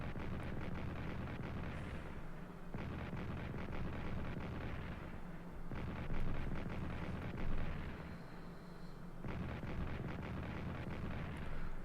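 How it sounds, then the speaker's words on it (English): Artillery fire in a World War I strategy game: several heavy, booming salvos that roll into one another in long, loud rumbling bursts with short gaps, no voices. "Caucasian artillery opens up as well"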